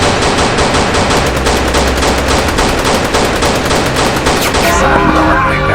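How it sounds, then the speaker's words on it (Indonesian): Pistol gunshots aimed at gangster henchmen inside a gangster hideout, a rapid, nearly continuous volley of loud, close shots that keeps firing for several seconds before cutting off. "tembak anak buah gangster itu menggunakan pistol"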